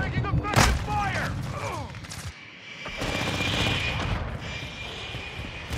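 Gunfire from a Modern Warfare 2 close-quarters match with an M16, heard as sharp bursts and volleys over a dense in-game battle din, with voices calling out under the shooting.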